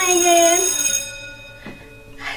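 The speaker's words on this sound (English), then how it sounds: "I hear the bell" A bright bell rings with a sustained metallic tone that fades out, followed by a couple of softer knocks.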